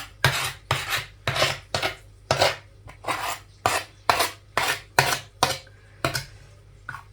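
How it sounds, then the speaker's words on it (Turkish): A knife slices through layered phyllo dough (yufka) on a baking tray for chocolate walnut baklava, making about a dozen rhythmic rasping strokes, each a short scrape with a faint metallic tap against the tray, close and steady. "yufkamı tepsimin üzerinde bir bıçak yardımıyla bu şekilde keseceğim"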